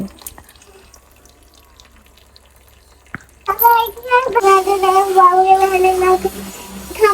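Water poured as an offering to a deity: after a few seconds of quiet with small clicks, a bright running splash starts and continues steadily, with a voice faintly mixed in.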